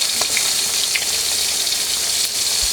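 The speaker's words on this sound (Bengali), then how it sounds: "এগুলো আগে ভেজে নেব সব" Chicken pieces frying in hot oil in a pan on a gas stove, a steady loud sizzle and crackle with small pops throughout.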